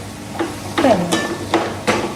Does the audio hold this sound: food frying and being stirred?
yes